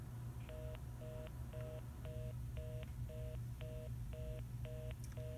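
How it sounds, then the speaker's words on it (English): A landline telephone sounds a reorder tone after a failed call on a dorm phone system, repeating short two-tone pulses at a fast, even rhythm over a steady low hum. "you do get a reorder, so obviously the call did not go through"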